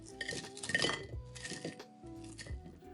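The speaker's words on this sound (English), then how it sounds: "You'll know you've succeeded if your falafel sounds like this when they hit a plate." Crispy fried Egyptian falafel dropping onto a plate in a quick series of hard, clattering knocks and clinks, close and fairly soft, with no speech.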